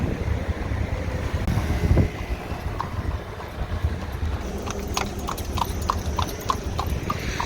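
Horse-drawn carriage ride through a park in Seville, with steady clip-clopping hooves on pavement throughout, fairly close, alongside light wind noise and a louder bump about two seconds in.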